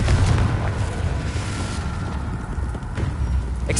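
Dense, rumbling blast from the Confringo curse in a Harry Potter game, a continuous low boom that stays heavy across the moment with scattered crackling on top.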